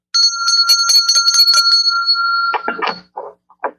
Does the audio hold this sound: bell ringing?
yes